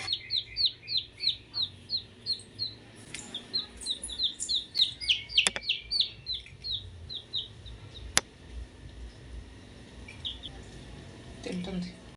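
Young chicks eating cooked rice chirp in quick, bright runs of repeated peeps close by, pausing briefly midway, with people's voices faint in the background.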